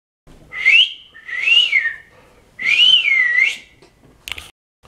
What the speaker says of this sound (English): That is considered the no-look whistle.